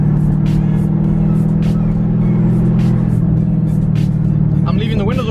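Dodge Charger Scat Pack's Hemi V8 pulls hard in manual mode through paddle-shifted gears, a deep steady rumble heard from inside the car with windows open, rising in pitch toward the end.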